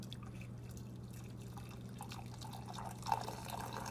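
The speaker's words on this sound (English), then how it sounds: "let's pour me a cup of coffee" Coffee poured from a new office coffee maker into a cup, a faint steady trickle with small drips and a brief louder splash near the end.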